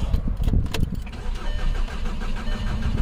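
A 2007 VW GTI with the 2.0T engine cranking but failing to start, a loud, close, low rhythmic churning of the starter that runs for the full three seconds without catching.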